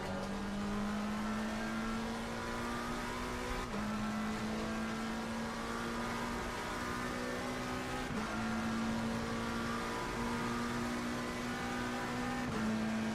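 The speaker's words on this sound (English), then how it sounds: "Faster car coming up behind. Watch out." Race car engine in Assetto Corsa Competizione, a steady high-pitched drone that climbs through the gears with brief dips at each upshift, loud and continuous for the whole stretch, as a faster car closes in from behind.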